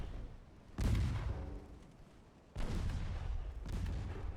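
Naval guns in the warship game Ultimate Admiral Dreadnoughts fire at transports: three heavy, booming salvos, each with a deep rumbling tail, spaced about a second or two apart.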